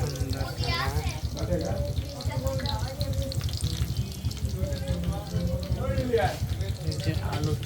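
Eggplant beguni fritters frying in hot oil for an iftar meal give a steady, dense sizzle that runs the whole time, with a voice talking over it.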